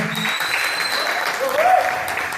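A church congregation at a youth camp testimony breaks into steady applause, a dense even wash of clapping with a faint voice rising briefly through it.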